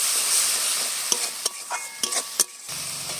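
Spice paste sizzles steadily in hot oil as it is fried down for a Bengali vegetarian egg-style curry, with several sharp spatula scrapes and stirs cutting through close up.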